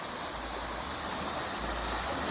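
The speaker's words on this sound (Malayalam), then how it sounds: "ആ പുഴ ഒഴുകുന്നു നോക്കി" Steady broadband rush of a river flowing past a tree in a Tamil Nadu village, constant and fairly loud with a low rumble throughout and no speech.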